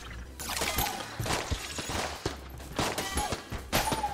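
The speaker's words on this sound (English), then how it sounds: "that stupid minecart minigun" Minecart minigun in Enter the Gungeon fires in rapid, clattering bursts, dense and loud with short pauses between volleys.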